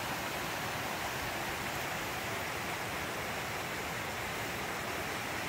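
Small untouched creek among cedar trees in the Cariboo, British Columbia, rushing in a steady, dense, broadband wash that stays loud and unbroken throughout, with no voices.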